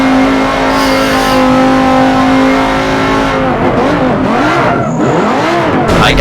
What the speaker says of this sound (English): I'm pretty much keeping this truck bouncing off the limiter now